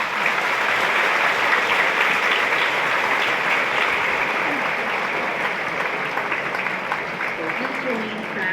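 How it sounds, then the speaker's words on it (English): Standing graduates at an APEC Schools graduation ceremony held at PICC applaud their faculty and administrators, a steady wash of many hands clapping that holds evenly throughout and fades only slightly toward the end. "thank your faculty and learning administrators with a round of applause"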